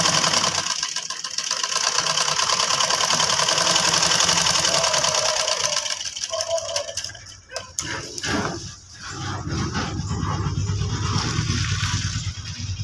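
An electric sewing machine stitches a kurti in bursts of fast, rattling needle runs, loud and close, broken by short pauses and handling knocks.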